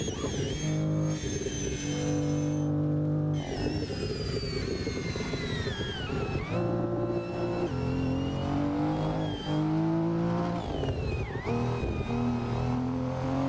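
Audi car engine racing around the Nürburgring in a driving game, a steady high-pitched engine drone with repeated rising revs and gear shifts, loud and continuous with no talk.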